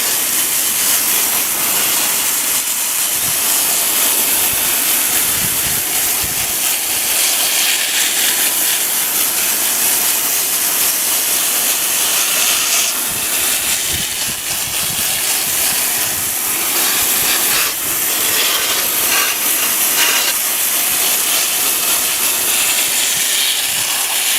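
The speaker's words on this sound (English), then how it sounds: "I take the sprayer, put it on jet, and just spray downward at an angle to get all that dust off of there" Water sprayer on its jet setting blasting dust off the coils of a Fedders 10,000 BTU air conditioner. A steady, loud hiss of spray runs continuously and close up, with no speech.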